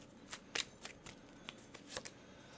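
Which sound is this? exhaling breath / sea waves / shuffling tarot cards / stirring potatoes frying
shuffling tarot cards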